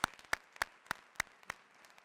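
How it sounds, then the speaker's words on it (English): Sparse, evenly spaced claps sound at a building ribbon-cutting ceremony, about six sharp hand claps at a steady pace, fairly faint in a quiet room. "So I think a round of applause to this school for its centennial."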